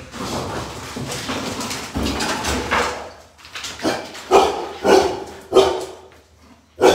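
Several dogs bark in a home, first in a continuous noisy jumble and then in separate loud, close barks that repeat about once a second.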